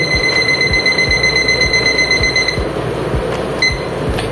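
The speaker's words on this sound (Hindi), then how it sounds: "तो अब इसमें 30 मिनट अलार्म लगाएंगे।" An alarm clock rings with a high, piercing electronic beep in rapid repeating bursts, loud and close, with a brief break near the middle before it sounds again.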